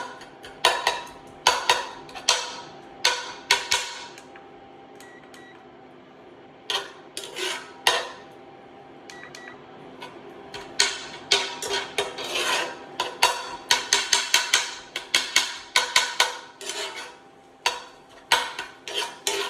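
A metal utensil repeatedly pressing and mashing beef against a pan, irregular clanking bursts over a low sizzle, close and clear.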